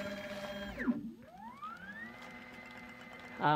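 A table top bottle filler starts a fill cycle for cold syrup through 3/8 tubing and a 1/4 inch nozzle: a motor note sweeps down and cuts out, then a rising whine ramps up and holds steady as a close, continuous hum, with a clunk near the end.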